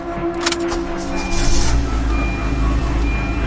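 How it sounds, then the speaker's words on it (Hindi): A car engine is started, a few clicks and beeps giving way to a low rumbling idle that builds and holds steady. "गाड़ी स्टार्ट की"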